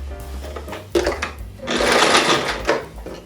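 A sewing machine stitching a zipper onto fabric, heard close as short mechanical bursts that give way to a steady, loud run of rapid stitching.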